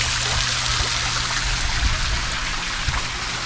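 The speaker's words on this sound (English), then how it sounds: "But it also makes like a really nice, cool waterfall sound out here too" A summer wave pool sprayer on a riverside houseboat pours a steady waterfall-like rush of water, continuous and close, with no breaks or voices.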